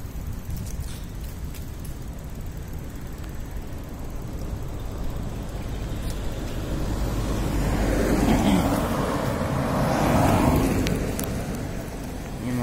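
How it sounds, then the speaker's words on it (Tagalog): A car passes on a city road in Filinvest City, Alabang. The engine and tyre noise rises out of a low traffic hum to a broad peak near the end before fading slightly. "Wop, may sasakyan."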